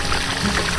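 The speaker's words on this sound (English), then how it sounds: "open the valve here and let's see the water flowing" Water rushes steadily from a river pump built from a gasoline drum, a continuous broadband gush with no pauses, close and fairly loud throughout the short stretch.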